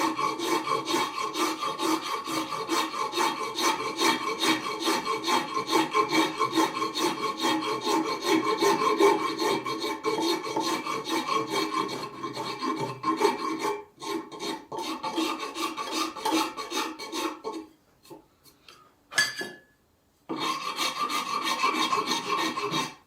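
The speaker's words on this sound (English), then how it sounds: "That's about it really on that for the rasping." A rasp files a wooden axe handle in long, steady back-and-forth strokes, a continuous close scraping that breaks into a few short pauses near the end.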